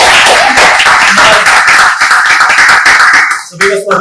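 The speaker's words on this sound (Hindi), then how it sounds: "पहले सारे गवाहियों के लिए हम प्रभु को जोरदार ताली दें।" A church congregation claps loudly and steadily in a dense burst of applause that fills the hall, with voices mixed in, before the clapping fades out near the end.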